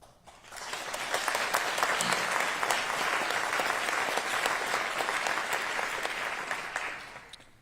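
An audience at Seattle's 2024 State of the City address breaks into sustained applause, swelling quickly, holding dense and even for several seconds, then fading out.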